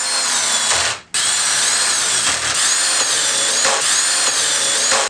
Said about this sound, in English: A right-angle drill attachment is the perfect tool to drill in a tight spot or to drive screws in